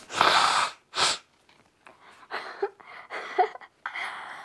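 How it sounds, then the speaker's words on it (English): A woman blows her nose close by, with two loud, forceful honking bursts followed by softer snorts and breathy sniffles. "she's blowing her nose"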